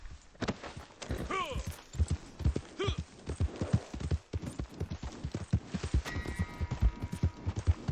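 Horse hooves clip-clop in Red Dead Redemption 2, a steady run of close, crisp beats of moderate loudness, with a couple of brief whinny-like calls and faint speech mixed in.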